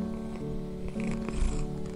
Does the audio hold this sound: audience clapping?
no